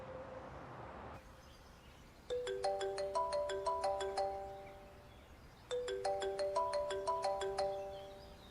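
A melodic electronic phone ringtone plays two bursts of rapid chiming notes, separated by a short pause, fairly loud and alone.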